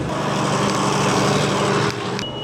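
A tractor engine drones loud and close, labouring steadily as it pulls a plough up a steep field, then drops slightly near the end.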